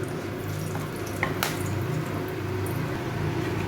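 Whole spices (bay leaf, dried chilli, cinnamon, cardamom and cloves) frying in oil for mutton kosha, giving a steady, soft sizzle with a few faint crackles and pops.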